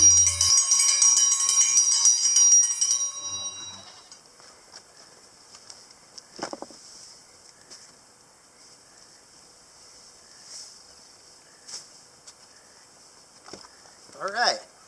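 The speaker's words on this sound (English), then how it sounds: "Let's start the day by ringing the dinner bell and feeding the animals" A dinner bell rings at the start of the day to call farm animals to feed, a bright ringing burst that rings out and fades, followed by quiet rustling and scattered knocks.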